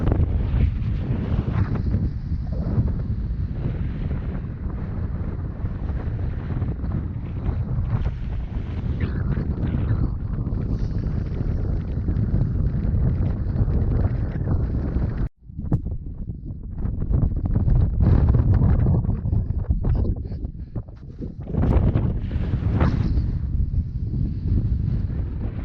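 Strong wind buffets the microphone on a mountain ridge hike along the Continental Divide Trail, a loud continuous low roar and rumble with gusts, briefly dropping out once midway.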